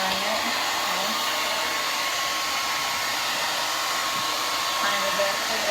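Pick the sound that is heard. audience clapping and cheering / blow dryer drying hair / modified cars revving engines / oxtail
blow dryer drying hair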